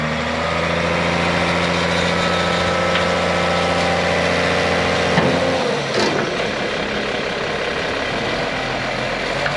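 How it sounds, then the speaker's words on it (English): Hay bale retriever working a hay field at the start of the season: a steady, loud engine drone close by, with a brief clunk of machinery partway through and the engine note shifting slightly afterward. "The retriever comes and gets them so he can stay out in the field and keep hauling."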